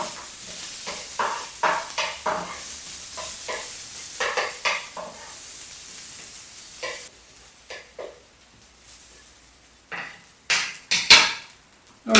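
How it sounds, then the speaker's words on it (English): Onions cooking in a sausage-butter mixture in a pan, a steady soft sizzle broken by repeated scraping and stirring strokes of a utensil against the pan, some sharp and close. "Now we're going to use that sausage butter mixture that was in the bottom of there to cook these onions."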